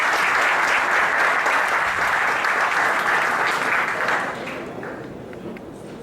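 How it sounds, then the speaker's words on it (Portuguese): An audience at a coffee quality lecture claps in sustained, dense applause that stays loud for several seconds, then gradually thins and fades. "Uma salva de palmas, senhoras e senhores."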